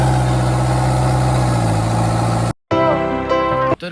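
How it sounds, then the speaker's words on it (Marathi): A tractor engine runs at a steady, rumbling idle close by, cutting out for a brief moment before resuming with a rougher, sputtering tone. "तर भाऊंनो आता आपण चाललोय ट्रॅक्टर घेऊन."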